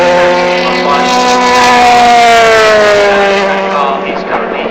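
Fortec Motorsport race cars scream past at Silverstone, a loud close engine whine with clear harmonic tones falling in pitch as they go by, carrying on for several seconds with a commentator's voice over it.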